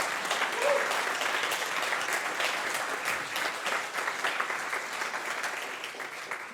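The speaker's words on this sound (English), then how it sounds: "a big round of applause for all the speakers today" Sustained applause from a conference audience for the day's speakers, a steady dense patter of many hands clapping at even loudness throughout, with no voices over it.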